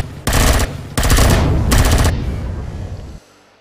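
Loud automatic gunfire in Empyrion Galactic Survival comes in three sustained bursts close up, each a dense rapid rattle, followed by a fading echo and near quiet.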